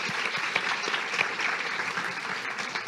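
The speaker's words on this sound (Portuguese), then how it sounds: "Vamos aplaudir nosso Beto Bonfim, nosso baterista aqui" Audience applause at a televised interview event in Brazil, a dense, steady clapping from a crowd that fills the whole stretch evenly at moderate loudness, with no talk over it.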